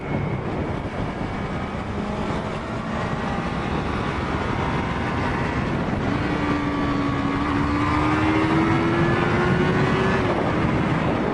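A Yamaha R3 motorcycle engine revs hard at high RPM in a loud, continuous roar whose pitch climbs steadily as the bike accelerates, with no voices over it.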